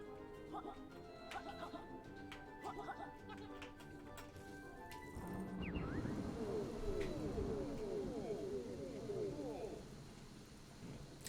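Rain falls in the Yooka-Laylee video game as a steady wash of noise that rises partway through, with game music before it and people talking over it.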